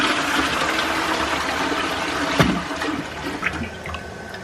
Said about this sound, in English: Full flush.